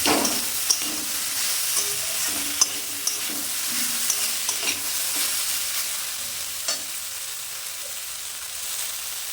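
Parshe fish curry with brinjal, potato and lentil dumplings being stirred after turmeric powder goes in, a steady sizzle with scraping spoon strokes and occasional clinks throughout, close and fairly loud, no voices.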